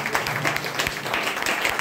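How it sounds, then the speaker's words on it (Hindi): Applause for a speaker at a network marketing meeting, a dense, steady patter of many hands clapping throughout with a faint hum underneath. "इनके लिए जोरदार ताली।"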